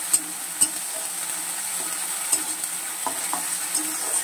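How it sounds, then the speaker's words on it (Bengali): Spice-marinated mutton masala stir-fried in a pan, a low steady sizzle punctuated by several sharp clinks and scrapes of a spatula against the pan, nearby and without talk. "এই একটু মশলাটা কষিয়ে নিই"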